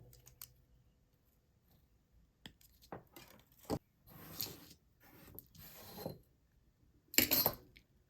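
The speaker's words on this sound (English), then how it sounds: "Cut another piece of wire." Jewelry wire is handled and cut with small hand tools, giving scattered metallic clicks, taps and scraping rubs at close range with no speech.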